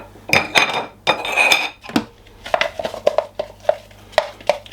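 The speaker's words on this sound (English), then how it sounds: "And give this a really good mix." A utensil works through blended prawn paste in a bowl, with clinks and scrapes against the bowl, a few louder rattling bursts at first and then a run of evenly spaced close taps.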